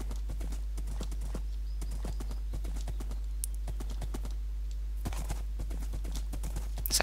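Horse hooves clip-clop at a steady walking rhythm, crisp and fairly close, continuing throughout over a constant low hum, in a video game.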